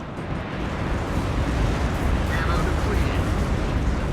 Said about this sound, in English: Look at this tank just get annihilated by the AH-1F Cobras.